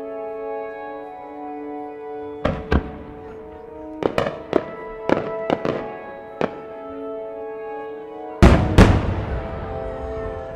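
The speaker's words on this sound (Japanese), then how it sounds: "花火師田畑智弘、曲名登り小花八重芯ステンドボタン。" Chrysanthemum-style fireworks shells bursting at a fireworks festival in Motegi, Japan, in a series of sharp cracks and booms, several separate blasts then two big loud bursts near the end with crackling tails.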